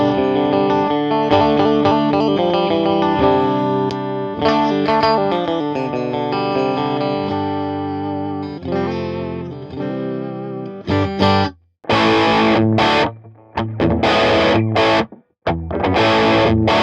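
A clean, sparkly Vox-style electric guitar amp tone from an STL Tones ToneHub Romesh Dodangoda preset plays a melodic chord-and-note passage with shimmering chorus and effects, full and close, then breaks into choppy stops near the end with no voices.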